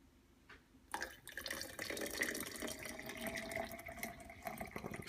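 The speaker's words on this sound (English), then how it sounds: "So let's go ahead and pour in the coffee." Hot coffee poured into a Contigo cup, starting with a short quiet lead-in and then a steady, close liquid stream that runs on until the end.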